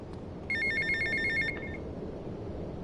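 A payphone rings in GTA Vice City on PS2, a single bright electronic trill of about one second, clear and loud over a low game-ambience hum.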